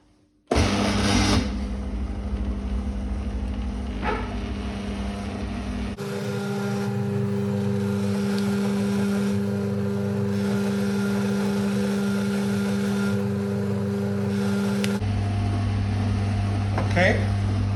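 A pasta machine runs while ravioli is being made, a steady motor hum and whir that holds throughout, changing in pitch partway through, with a person talking over it.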